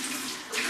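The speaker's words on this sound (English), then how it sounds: "It's really important to wash your hands for at least 30 seconds with really hot water and soap." Hands being washed under running tap water, a short steady close gush of faucet flow.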